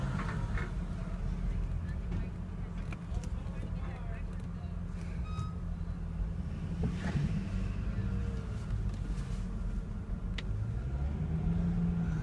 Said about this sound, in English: Car drives nice, I'll give it that much.